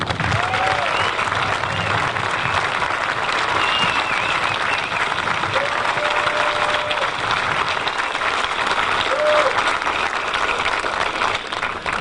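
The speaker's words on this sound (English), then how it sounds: "we'd like to extend a special round of applause for all the veterans who are in attendance today" A crowd applauds steadily and loudly for veterans attending the Sanford International golf tournament opening ceremony, the broadband clapping sustained without a break throughout.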